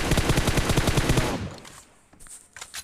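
Gunfire in the PUBG Mobile game comes as a loud, rapid automatic burst of about a dozen evenly spaced shots. It stops abruptly, followed by faint clicks and quieter game sounds.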